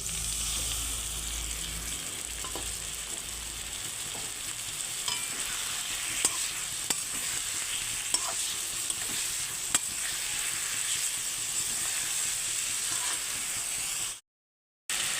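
A spice paste for silver carp curry fries in a pan with a long, even hiss of oil, the occasional faint tick of a stirring spoon, and a brief drop to silence near the end.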